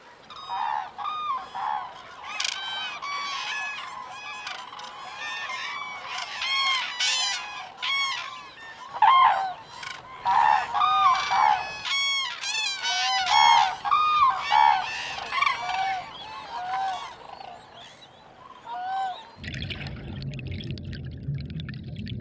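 Cranes and other migrating water birds call together in a dense, continuous chorus of honking trumpets that overlap steadily for a long stretch, with a low rushing sound taking over at the end.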